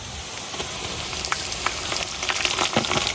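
Hilsa fish head frying in hot oil with browned onion and garlic, giving a steady dense sizzle that runs throughout with small crackling pops rising now and then, close and alone.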